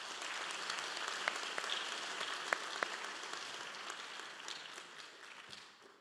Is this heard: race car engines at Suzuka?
no